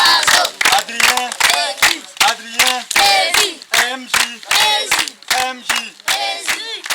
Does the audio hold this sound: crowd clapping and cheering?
yes